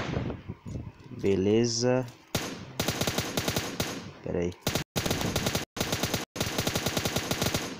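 Rapid bursts of automatic gunfire from the video game PUBG Lite rattle out in long loud strings with brief gaps, while someone speaks briefly in Portuguese near the start.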